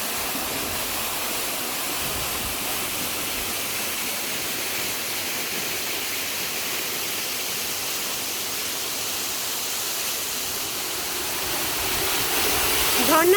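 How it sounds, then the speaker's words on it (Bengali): Roaring waterfall at Cherrapunji heard from behind the falls, a dense, constant rush of water close up that swells slightly louder at the end, with no other sounds. "ঝর্ণার জল আমার গায়ের মধ্যে ছিটছে, ভিজে যাচ্ছে"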